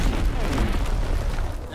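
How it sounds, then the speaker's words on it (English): Incoming enemy artillery in a World War II Ardennes team deathmatch game, a continuous roar of heavy booms and rumbling explosions, with a voice calling out over the barrage. "Incoming enemy artillery."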